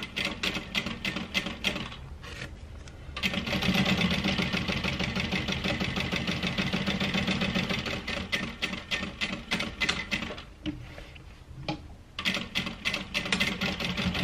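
A domestic sewing machine runs in close, rapid bursts while back stitching the corners of a handbag, its mechanical needle clatter starting and stopping with short pauses between runs and one longer sustained stretch in the middle.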